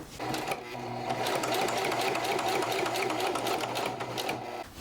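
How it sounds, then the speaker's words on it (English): A sewing machine runs steadily, stitching a strap onto a bag made from thrifted jeans, its needle chattering in a fast even rhythm close by before stopping at the end. "Let's go and sew the other one."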